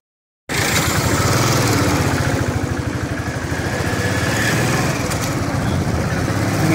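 A Royal Enfield Bullet motorcycle starts up abruptly and runs during a road test, its engine thumping steadily and loudly with a rumbling exhaust and wind noise continuing throughout.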